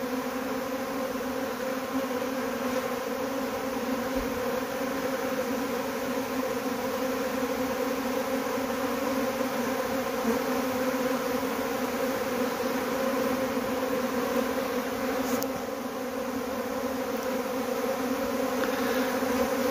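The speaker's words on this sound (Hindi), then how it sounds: "आप इंजॉय कीजिए मधुमक्खियों की स्वार्मिंग" A swarm of Himalayan honey bees buzzes outdoors in a thick, continuous drone of countless wings, steady and close throughout with only slight swells in intensity.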